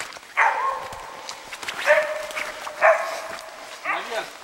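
A mongrel dog barks upward into a tree at a marten or squirrel, with four loud, separate yapping barks spaced about a second apart and a whimpering, wavering tail on the last one.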